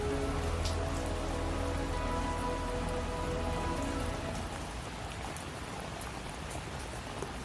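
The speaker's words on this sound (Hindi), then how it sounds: "बारिश भी तेज थी" Heavy rain pours down in a steady, dense hiss of drops striking surfaces; the downpour is close and continuous, easing slightly toward the end, with no voices.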